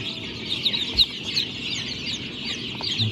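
Native H'mong chicks, including yellow-feathered ones, chirp and cheep in a steady stream of small high calls, with soft clucking close by and no talking.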